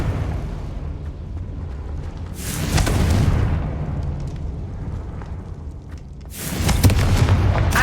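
Two heavy, roaring fire-spell blasts from Confringo in Hogwarts Legacy burst out a few seconds apart over a continuous low game rumble.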